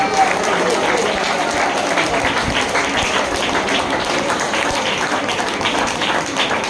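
A church congregation claps together in praise, a dense, steady wash of many hands across the whole stretch, fairly loud and close, with a faint voice running underneath.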